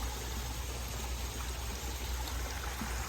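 Soft, steady trickle of water from a garden water feature, a constant faint splashing wash with no voices.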